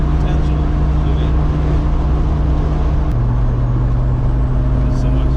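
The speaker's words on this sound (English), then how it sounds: "every Supra has that sound" Engine of an old abandoned Toyota Supra project car, a steady loud low rumble holding throughout with a slight drop in pitch partway, close and continuous with no talk.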